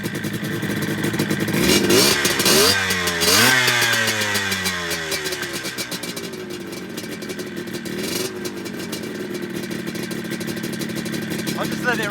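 A 1978 Yamaha RD250 two-stroke motorcycle engine runs close by, revving up and down with a sharp rising and falling whine before settling into a rattly, buzzing idle.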